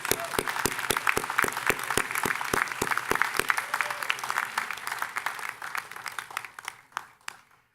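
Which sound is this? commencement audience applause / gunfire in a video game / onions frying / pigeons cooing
commencement audience applause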